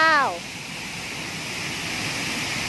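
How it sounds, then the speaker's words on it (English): Steady broadband roar of a misty waterfall, heard near and continuous throughout, with a brief excited voice exclaiming at the very start. "Waterfall!"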